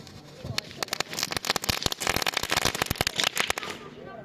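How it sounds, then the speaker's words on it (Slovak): A New Year's Eve firework sputters and crackles up close in a dense run of sharp pops and fizzing bursts, with people nearby. "Také prskanie."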